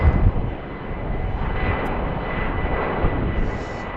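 A Delta jet airliner takes off from BWI airport bound for Boston, a loud, broad engine roar that rumbles steadily and close throughout the short stretch.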